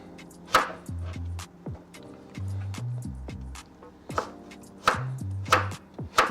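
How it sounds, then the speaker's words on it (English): Knife chopping aubergine on a cutting board for a Jamaican-style vegetable curry, giving several sharp, close chops spaced irregularly with quieter gaps between them. "So I'm gonna just chop these. This is the aubergine."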